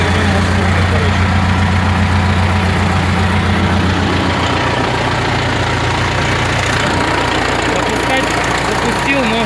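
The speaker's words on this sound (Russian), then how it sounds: "ну в общем запустил трактор" An old T-40 tractor diesel engine idles steadily after a winter start, loud and close, with a knocking mechanical rumble that runs unbroken throughout.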